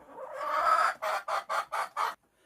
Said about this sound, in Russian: Хотя вот сейчас птица у меня сыта, они все равно клюют лук